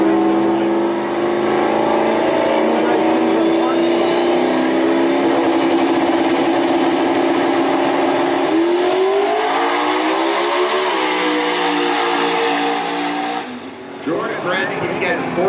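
A turbocharged 2000 Camaro with a 363 LX engine and 88mm turbo launches in a drag race, its engine screaming in a rising, sustained rev that climbs and then cuts off near the end, with a crowd and announcer in the background.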